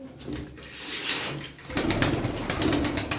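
Gitti pigeons coo in a soft, repeated murmur close by, with light rustling around them and no one speaking.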